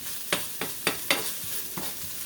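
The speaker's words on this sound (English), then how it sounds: "Check on my little saute thing going on." Vegetables for Southern-style vegan red beans sauté in a pan, a soft continuous sizzle broken by several sharp scraping stir strokes at a fairly even pace, close and with no talking.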